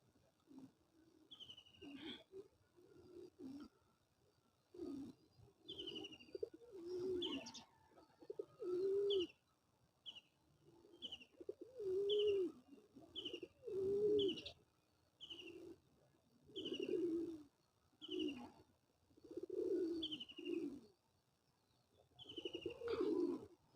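Pigeons coo repeatedly in a steady rhythm of low, rolling calls, with short high chirps scattered between the phrases, close by and fairly loud, with no speech.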